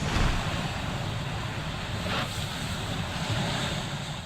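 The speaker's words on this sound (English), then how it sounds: "Coastal communities in Massachusetts pounded by monster waves." Heavy surf from a nor'easter pounds the Massachusetts coast, a steady roaring wash of breaking waves mixed with strong wind buffeting the microphone, loud and continuous throughout with no voices.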